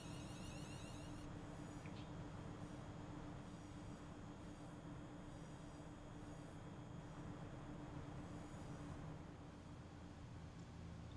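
A low, continuous rumble of a Class 170 diesel train labouring to pull away from Coventry station in the distance, with faint high squeals, steady and quiet throughout.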